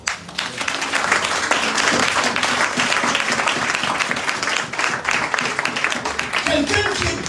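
A church congregation applauds for several seconds, a dense, loud and sustained clatter of many hands with voices mixed into the crowd noise.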